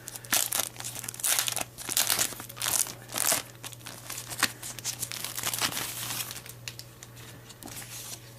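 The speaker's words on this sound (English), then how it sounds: "First thing I'm going to do is actually open up the manual here" A paper manual for a Dyson AM09 fan heater is unfolded and handled, giving close crinkling, rustling and crackling bursts that come in uneven waves over a low steady hum, with no talking.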